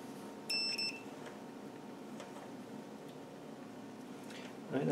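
A multimeter set to ohms gives one short high electronic beep, checking a diff lock on an LT230 transfer box, against a quiet workshop background.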